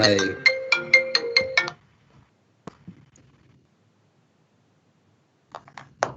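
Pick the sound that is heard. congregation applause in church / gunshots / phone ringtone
phone ringtone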